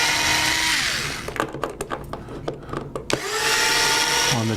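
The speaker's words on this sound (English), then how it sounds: "And then you remove the screws" A power tool backs screws out of embedded screw bosses inside a pontoon, its motor whining up and easing down, then stuttering in short bursts before spinning steadily again, close and fairly loud.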